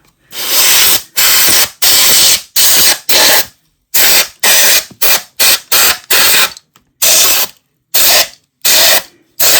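Compressed air from a canister blasts in repeated short bursts into a tube radio chassis while cleaning it, loud close hissing sprays separated by brief pauses, with no talking.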